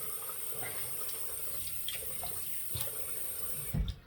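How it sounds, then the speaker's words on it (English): Water runs steadily, as when rinsing soap off a 2015 Above the Tie S1 slant razor, ending in a brief louder splash or clunk near the end. "it's taken me a while to rinse off all that slickness from the soap"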